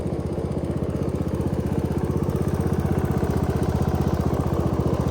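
Lawnmower engine fitted to a budget go-kart build, idling steadily with a fast even chugging pulse, loud and close, no voices.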